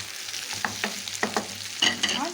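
Garlic cloves dropped into onions frying for a beef and onion tagine, a soft steady sizzle broken by several sharp stirring taps and scrapes, close and fairly quiet.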